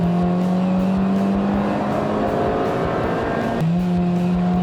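A 2016 Honda Civic Type R accelerates hard on the Nurburgring, its engine loud and close with a rising, strained tone, then a brief dip at a gear change before the steady pull resumes.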